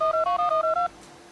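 A phone number being dialed on a telephone keypad: a quick run of about seven clear DTMF beeps in a steady rhythm, close and loud, followed by a faint line hum.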